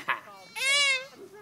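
On a goat farm, a voice imitates a goat with a single drawn-out, wavering bleat, close and moderately loud, between brief bits of other vocal sound.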